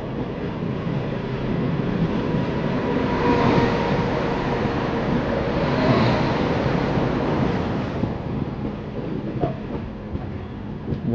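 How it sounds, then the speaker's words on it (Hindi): Geetanjali Express train rumbling along the rails with steady, close clatter and roar that swells around the middle and eases off near the end, alone without voices. "यहाँ सामने से आपको 2 ट्रेनें हुए आती हुई दिखाई दे रही हैं"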